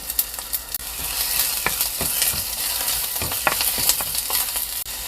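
Garlic and onion frying in a pan for Korean spicy doenjang, a steady loud sizzle with crackling pops and occasional scrapes of stirring, with no talk.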